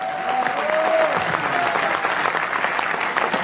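Close, full audience applause in a lecture hall, a thick, continuous patter of many hands clapping at steady loudness throughout.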